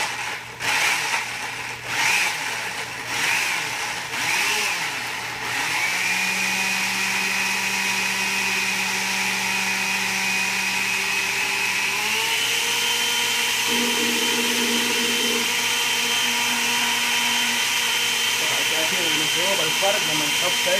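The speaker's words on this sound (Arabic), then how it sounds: "طيب يلا نحط خلاط كذا بنضرب الخلاط" A blender making a juice drink whirs steadily and loudly, its motor pitch shifting slightly as it runs, after a few short bursts of talking at the start.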